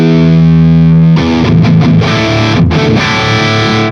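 A loud, heavily distorted electric guitar rings through a Fryette Deliverance Synergy module with the depth control raised. One chord sustains thickly, then chopped chugging riffs follow and cut off abruptly at the end.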